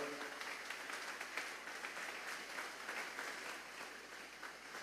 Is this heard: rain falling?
no